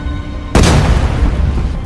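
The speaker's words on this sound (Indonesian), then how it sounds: "dari arah luar sebuah ledakan terdengar" A planted bomb goes off in a loud explosion, a sudden sharp blast after a half second of quiet hum, followed by a long rumbling roar that slowly fades, with no voices.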